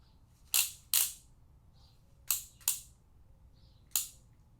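A torque wrench clicks on small block Chevy main cap bolts being tightened to 50 foot-pounds: five sharp, close clicks, two quick pairs and then a single one, over quiet shop background.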